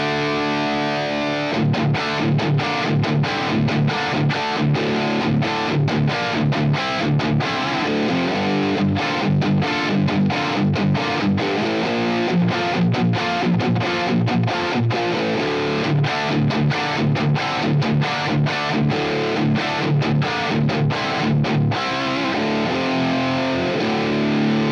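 Heavily distorted electric guitar through a Friedman JJ Jr 20-watt all-tube head plays a chunky, rhythmic riff with choppy palm-muted stops, loud and sustained with no voices.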